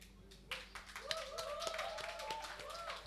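A few quick hand claps, close and fairly light, mixed with a voice speaking or humming over a quiet background.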